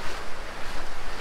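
Ocean surf on an Australian beach in cold water, a brief loud wash of waves mixed with wind buffeting the microphone.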